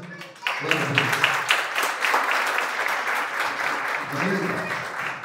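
A church congregation applauds during an evangelical worship service, a steady wash of clapping that swells after a brief opening, with voices calling out over it throughout.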